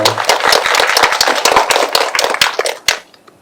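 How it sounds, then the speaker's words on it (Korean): A small audience at an independent film showcase claps for about three seconds, dense, close handclaps that thin out and stop, with a last few scattered claps. "박수로 맞이해 주십시오"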